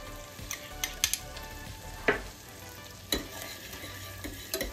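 Garlic and onions frying in a pan, a soft continuous sizzle broken by several sharp scrapes and clinks of a utensil against the pan, close with no talk.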